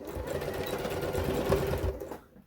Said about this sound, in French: on va venir coudre ici à 1 cm